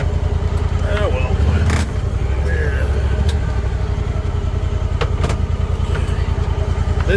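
A Honda Talon side-by-side runs at a low, steady engine rumble while it is turned around in a tight spot, with someone talking over it throughout.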